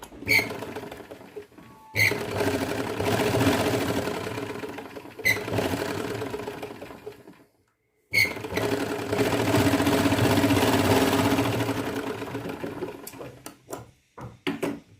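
A sewing machine stitches an Afghani salwar in long bursts of rapid, steady mechanical whirring, broken by short pauses and a silent gap, then ending with a few quick clicks.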